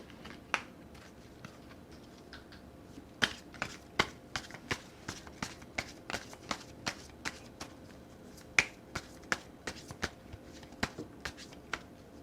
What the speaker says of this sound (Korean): 조언 카드를 좀 하나 뽑아보도록 해볼게요